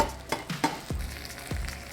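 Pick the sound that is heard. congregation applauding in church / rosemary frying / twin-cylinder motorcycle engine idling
rosemary frying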